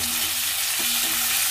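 Onions and tomatoes fry in a pan for palak paneer, giving a steady, close hiss of sizzling oil with a faint stir near the middle and no talking.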